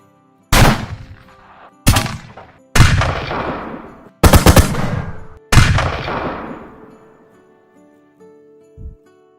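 Five explosion sound effects fire one after another, each a sudden loud boom that trails off into a long rumbling decay, with a faint low thump near the end.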